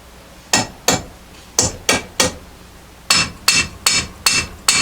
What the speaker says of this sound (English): I don't much care for banging on the steel.